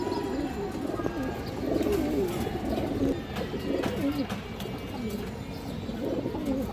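Khaki pigeons, including a China Khaki female, coo in short repeated phrases close by, with occasional chirps and light background noise.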